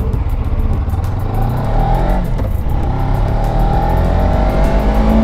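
Suzuki GSX 250 R motorcycle engine revving loudly and steadily up close, a continuous droning roar with rising pitch that fills the whole stretch without any talk.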